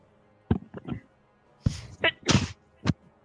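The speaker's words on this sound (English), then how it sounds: "I did not mute myself before I sneezed" A few sharp, noisy bursts, one after another, sound like someone sneezing close by, with short breathy gaps in between.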